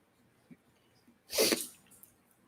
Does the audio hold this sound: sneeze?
yes